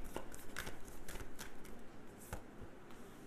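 Tarot cards are shuffled and drawn by hand, giving quiet, close, irregular flicks and soft slaps of card stock in short bursts.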